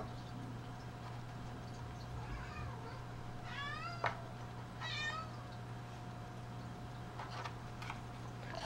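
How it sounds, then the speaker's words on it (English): A cat meows a few times in the background, a couple of rising, wavering cries over a steady low hum, with a single sharp tick between them. "That's Kitty in the background, meowing"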